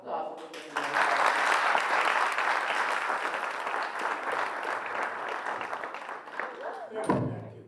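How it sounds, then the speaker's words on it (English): A crowd applauds loudly and steadily after an open lecture, the clapping sustained throughout before breaking off with a short thump near the end. "please, another round of applause for the"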